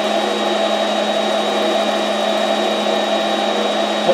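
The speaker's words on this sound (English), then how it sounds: "all we're using is just a shop vac" A shop vac running on a Land Rover Defender's lower dash to suck vinyl down onto it, a loud steady whining drone held close and unbroken throughout.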